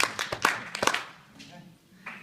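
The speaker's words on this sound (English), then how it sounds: "Clap your hands 3 times" An audience at an NCTE 2014 conference talk claps hands in a few quick, sharp bursts close together, then the room fades into a quieter murmur.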